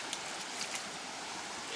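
The Itaguari river flows in a steady, broadband rush of water, continuous and fairly close, with no voices over it.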